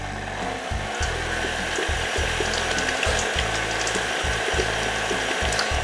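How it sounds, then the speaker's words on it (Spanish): An electric mixer beats margarine and oil into a creamy base, whirring in repeated bursts with short pauses and a rhythmic mechanical drone, heard close and fairly quiet with no talking. "Voy a batir para cremar un poquito."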